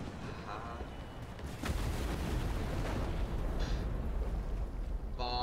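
Bombs in the War Thunder tank game going off as a deep, heavy rumbling blast that keeps booming low and loud, with brief electronic beeps over it.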